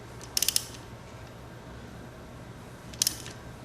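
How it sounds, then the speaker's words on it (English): Ratchet turning the crankshaft of a Honda Rebel 250 motorcycle, heard as two quick bursts of sharp metallic clicks, a few rapid clicks each, close by over a quiet background hum. "you need to crank the crankshaft clockwise and watch the flywheel in here"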